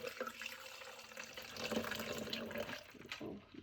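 Ice water running from a tap into plastic cups, a steady close splashing and pouring stream that continues without pause for a few seconds, with no talking.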